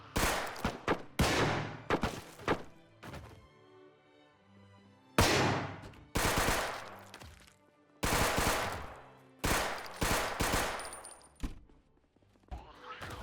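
Gunfire in a zombie survival video game, loud close bursts of rapid shots and single heavy reports with ringing decays, separated by short quieter gaps.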